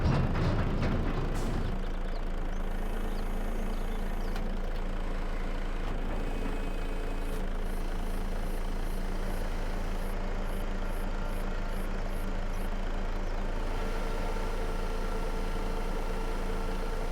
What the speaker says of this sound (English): I can hear the truck